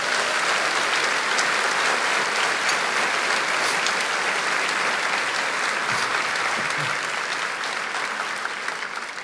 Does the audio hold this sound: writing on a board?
no